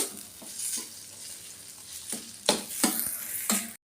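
Freshwater clam curry masala sautés in a pan, giving a soft, constant sizzle broken by several distinct scraping stir strokes. The strokes come closer together and louder near the end.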